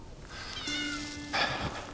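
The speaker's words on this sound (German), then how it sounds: "Katze, ehrlich." A cat gives a single drawn-out meow of about a second, fairly close and clear over a soft indoor background hiss, with no talking.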